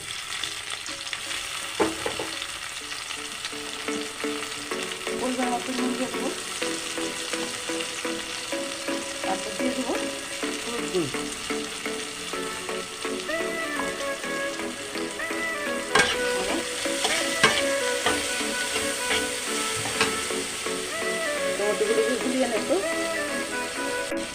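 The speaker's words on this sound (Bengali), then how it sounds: "লাল লাল করে ভেজে নেব এখন আমি টমেটো কুচি দিয়ে দেবো" Chopped tomatoes frying in oil for a stuffing for pointed gourd and teak gourd, a steady sizzle with stirring and spatula scrapes throughout, while a voice talks over it.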